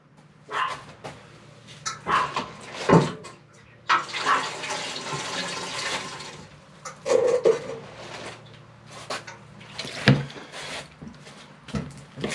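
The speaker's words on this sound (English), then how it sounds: "So we'll give it one last big watering" Water poured over a repotted dawn redwood bonsai for a final watering, a rushing splash that swells for a few seconds, with intermittent nearby bumps and what sounds like a dog barking.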